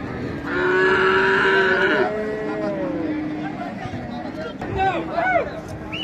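Cattle at a livestock market: a near, loud cow moo holds for over a second, then lower bellows and market chatter continue with people talking and more animal calls in the background.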